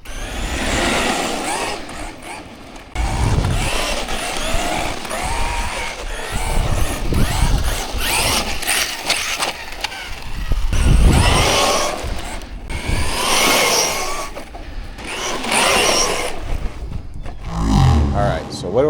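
A Hosim X07 RC car running on a 4S battery whines and rumbles over a ramp, motor surging in bursts with gravel crunching, loud and close, with a voice talking over parts.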